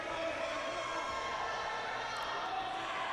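Crowd noise at an AMW Wrestling Summerbash event, a steady, fairly distant roar of cheering fans heard faintly under commentary.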